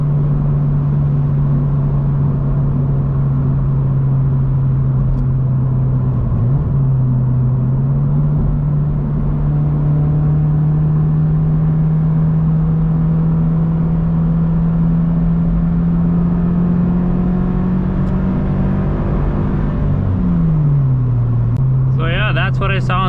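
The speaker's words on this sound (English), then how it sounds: "Not the loudest exhaust." A Subaru BRZ tS engine with aftermarket exhaust drones steadily and climbs slowly in pitch as it accelerates up a ramp, with a brief gear-shift dip and a sharp burst near the end.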